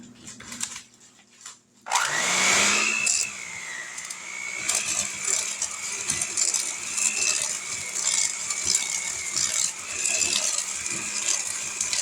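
An electric mixer whirs loudly and steadily, mixing strawberry pretzel salad filling, starting up after a brief quieter moment with some rattling of beaters against the bowl.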